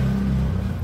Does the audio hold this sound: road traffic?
yes